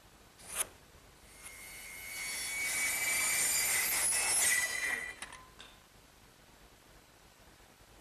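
A handsaw cuts through a wooden board in the workshop, building into a steady rasping stroke over a few seconds before fading, with a few light taps around it.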